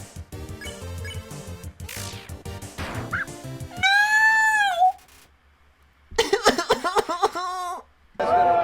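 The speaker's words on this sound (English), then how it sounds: "He does the Keaton thing where he makes a hurt dog noise." Whimpering, yelping hurt-dog noises from the Undertale video game character Doggo, a few high wavering cries in short bursts separated by quiet gaps, with someone talking and laughing beforehand.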